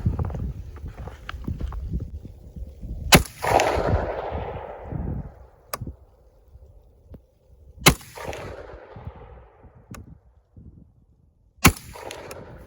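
Three sharp gunshots from an AR-15 rifle fitted with a 300 Blackout upper, fired outdoors in cold weather, each a loud crack trailing into a long echo, spaced about four seconds apart.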